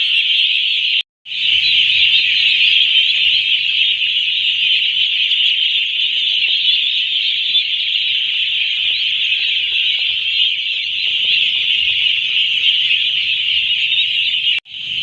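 Pet ducklings raised near rice fields make a loud, continuous high-pitched peeping chorus that runs almost without a break across the whole span, close and dense, with only a brief pause near the start.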